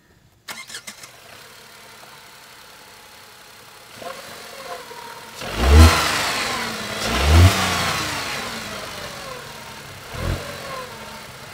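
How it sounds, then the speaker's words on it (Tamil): Tata Altroz hatchback petrol engine started up, then revved in two strong bursts and a shorter third blip, settling back to a steady idle between them; heard close and alone with no talking. "இந்த வெஹிக்கிளோட இன்ஜின் நோட்டை கேளுங்க."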